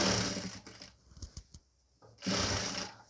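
A sewing machine runs in a steady whirring burst, stops for a few soft handling knocks, then starts again, stitching the neck and shoulder of a nighty.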